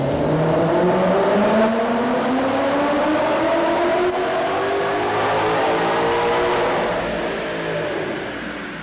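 A supercharged 2014 Ford Mustang GT with a Roush supercharger and McLeod clutch drives under load, its engine note rising steadily and loud through the gears, with a sustained whine and a brief easing near the end.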